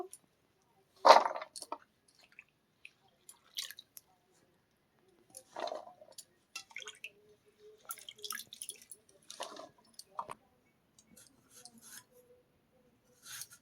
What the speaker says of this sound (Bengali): কচুগুলো ধুয়ে তুলে নেব।